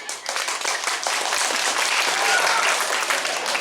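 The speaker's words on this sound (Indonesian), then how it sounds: "Tepuk tangan." A crowd at a Balinese Prembon dance-drama performance at a temple gives a dense, sustained round of applause, steady and fairly loud throughout.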